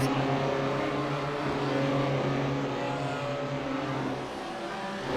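A race car engine drones steadily during a circuit race, a sustained engine hum holding at a moderate distance with slight shifts in pitch and no talking heard.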